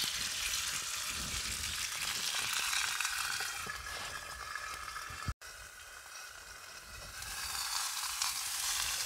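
Steak sizzles and fries steadily in a pan at a wild summit camp in Scotland, a loud continuous crackle with one brief dropout partway through.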